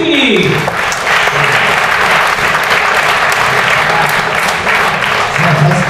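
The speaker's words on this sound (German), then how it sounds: "Und ein Applaus" A poetry slam crowd claps loudly and steadily for about six seconds, a dense, continuous burst of applause filling the room.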